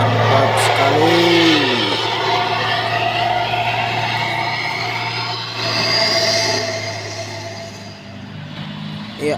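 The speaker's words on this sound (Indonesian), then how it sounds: "ini dia truk Fuso oren yang sudah hampir sampai ke atas" An orange Fuso truck labours up a slick hill road, its engine droning steadily and somewhat distant, with a brief rising whine early on and a gradual fade toward the end.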